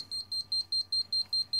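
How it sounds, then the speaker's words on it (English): OLEDiUNO clock alarm beeper sounding, nine rapid evenly spaced high beeps, close and clear with no talk. "this is the alarm, and here you can turn it off and on the beeper"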